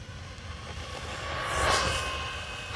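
An Arrma radio-controlled car on two-wheel drive passes by, its high electric whine rising to a peak and then falling away, heard over a low background rumble.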